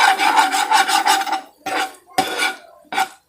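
Egg bhujiya fried with spices, tomato and onion, scraped and stirred in a pan, giving loud raspy scraping strokes, a quick steady run followed by three separate bursts, with no voices.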